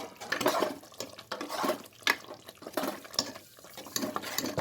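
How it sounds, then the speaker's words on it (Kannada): Spoon stirring three tomatoes in a cooking pan for jackfruit kurma, a run of wet scraping and sizzling strokes in an uneven rhythm, close and moderately loud, no talk. "ಈಗ ಕೈ ಆಡಿಸೋಣ, ಚೆನ್ನಾಗಿ ಕೈ ಆಡಿಸ್ಬೇಕು."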